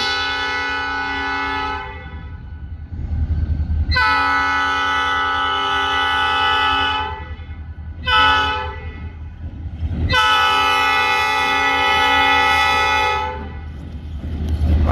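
A train approaching a crossing blasts its horn in long, loud chords, two extended blasts separated by a short toot, over the rumbling of the passing train.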